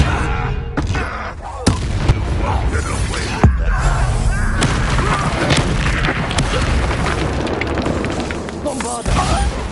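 A Confringo fire curse explodes during combat in the Hogwarts Legacy video game. Several loud booming blasts and thuds are heard among crashing effects, with character voices speaking over the din.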